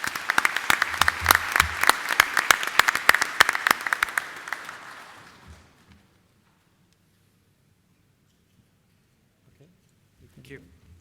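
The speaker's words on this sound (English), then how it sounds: "Please join me in giving them a round of applause." An audience at a CFO conference in the Middle East applauds its panelists: dense clapping for about five seconds that thins and dies away into quiet, followed by a brief voice.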